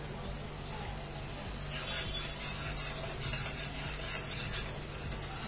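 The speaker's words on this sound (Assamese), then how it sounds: "সেইখিনিও ইয়াৰ লগত ভাজি ল'ম।" A steady sizzling hiss of ginger, garlic and green chilli paste frying in a hot pan, with faint stirring scrapes running throughout.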